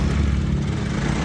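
Motorcycle engine just fired up by push-button start, running in a steady close-up idle with a low throbbing rumble and a faint high whine above it.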